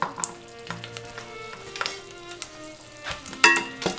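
Chopped onion and garlic sautéing in hot oil in a pan for Mexican white rice, a steady sizzle with occasional stirring scrapes, close and alone without talking.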